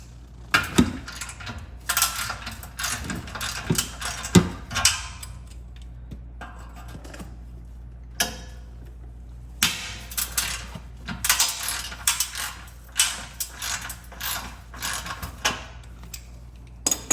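A ratchet turns a 15 millimeter socket on the exhaust bolts of a Dodge Challenger, making bursts of quick metallic clicking and clunks that stop and restart, with a steady low hum underneath.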